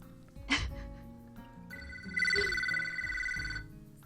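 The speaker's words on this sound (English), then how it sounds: "And the phone rings again." Telephone ringing in the visual novel game Katawa Shoujo: a sharp click, then an electronic ring tone swelling in for about a second and a half among soft background music, fairly close and clear.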